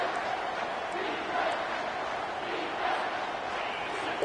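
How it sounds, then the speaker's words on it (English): A stadium crowd in a video football game holds a steady, broad roar that swells slightly at moments, sounding distant and continuous throughout. "Decibels rising as the crowd gets behind this defense on 3rd down."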